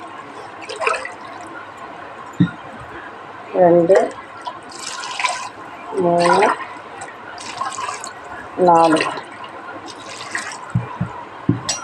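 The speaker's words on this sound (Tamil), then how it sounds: "4 டம்ளர் தண்ணி ஊற்றிக்கலாம்." Water poured from a tumbler into a cooking pot for goat leg soup, three distinct gurgling pours spaced a few seconds apart, with a person speaking between them.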